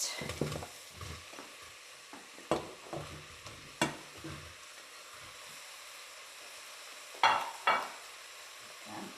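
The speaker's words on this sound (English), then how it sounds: "I just throw them in here and then I give them a good stir" Potatoes and liquid stock go into a soup pot of leeks, followed by a gentle stir: a few soft clunks and splashes, a low simmering hiss and scattered scraping stirs, close by and without talk.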